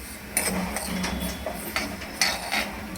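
Half a cup of sesame seeds dry-roasting in a pan, giving sporadic sharp crackles and pops over a soft continuous hiss, close and fairly loud.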